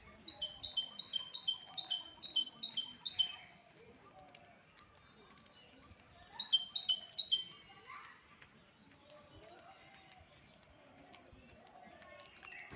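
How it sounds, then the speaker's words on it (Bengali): Birds calling near village houses, with a quick run of sharp repeated chirps, a pause, then another short burst, all fairly faint over quiet outdoor ambience and light insect buzz. "আমি পাখির আওয়াজটা খুঁজছিলাম যে কোথা থেকে আসছে এত সুন্দর লাগে পাখির আওয়াজগুলো"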